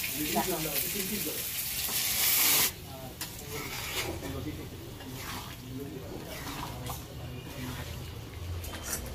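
Pieces of duck meat dropped into hot oil in a pan, a loud burst of sizzling at first that settles into a steady frying hiss with occasional stirring, while someone talks over it.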